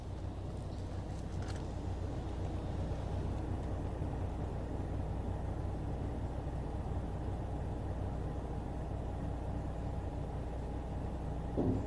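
Hydraulic flip tail retracting on a 2020 Fontaine Traverse HT heavy-haul trailer: a steady, droning low hum that holds level for the whole stretch, with no talking over it.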